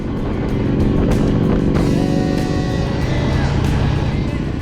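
A vehicle rolls slowly through a town. A steady engine and road rumble stays close and constant, with a few faint clicks and knocks on top and no clear voices.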